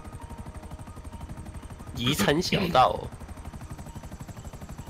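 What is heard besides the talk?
helicopter in video game Grand Theft Auto V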